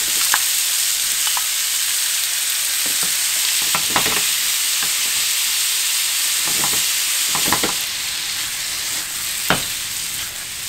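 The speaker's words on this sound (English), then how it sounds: "Now add in the juicy tomatoes." Tomatoes stir-frying in a hot pan for a tomato and egg dish: steady close sizzle and hiss, punctuated by scattered scraping taps of a utensil stirring, with no talking.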